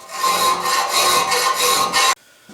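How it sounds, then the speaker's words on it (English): A hand file rasps back and forth on the holes of a metal end plate, fitting them for a dust chute base, with about six quick strokes close up and then a pause. "So I'll file them to fit."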